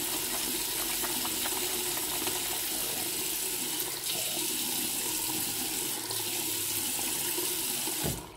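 Hot water runs steadily from a tap into a sink, a constant close hiss and splash with a small clunk at the very end.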